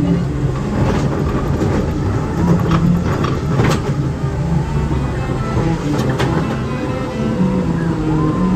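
Roller coaster train at Walibi Rhône-Alpes, heard from on board, rumbling and clattering steadily with a dense low mechanical roar and occasional faint clicks, loud and continuous with no clear talk.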